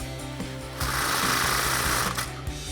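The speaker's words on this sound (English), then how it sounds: "tighten it down with a 15mm socket" A tool tightens an exhaust muffler clamp with a 15mm socket on a Ford F-150 during an MBRP dual exhaust install: low rhythmic whirring, then a loud sustained burst of about a second before settling back.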